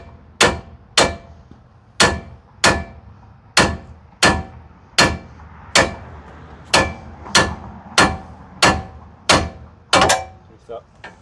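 Hammer tapping a ball joint out of a steering knuckle from below during a lift install, about fourteen sharp metallic clangs struck at a steady rhythm, close and loud.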